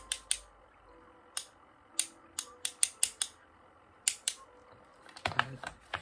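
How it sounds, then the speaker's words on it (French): A brush taps repeatedly on a surface, a series of sharp, crisp knocks with irregular gaps, some in quick pairs, ending in a rapid flurry of scratchy taps. "Un coup de brosse pour taper."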